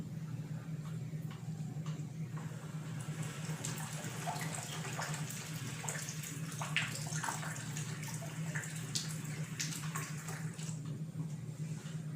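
Water gushes out of a pipe while air is blown into a separate pipe in a classroom science demonstration on pressure, making a steady, faint flowing and splashing sound with a low hum underneath.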